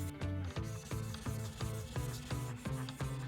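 Japanese kitchen knife being polished on a fine whetstone, such as 1000 to 2000 grit, in steady back-and-forth strokes: about seven rhythmic scraping rubs at a close, even pace, with no talking.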